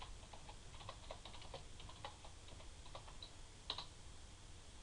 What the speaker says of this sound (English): And then we're going to type in password.